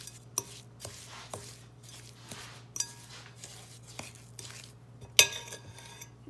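A utensil taps and clinks against a bowl at a steady, irregular rhythm while lemon juice is mixed into buttermilk pie filling, close and fairly quiet, with a few sharper knocks and no talking.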